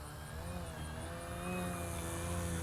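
A radio-controlled model airplane's motor drones steadily at a distance, its pitch rising slightly as the throttle increases, with no talking.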